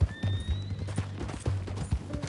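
Horse hooves clip-clop in a regular trotting rhythm in the video game Red Dead Redemption 2, close and distinct, with a brief whinny-like tone over the steady beats.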